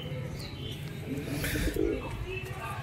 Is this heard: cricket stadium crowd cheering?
no